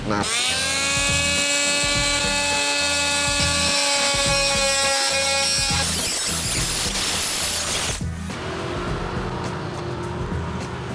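An NRT Pro 3000HD oscillating multi-tool with its stock blade buzzes with a high, steady whine as it cuts at an angle, then its tone shifts rougher near the end.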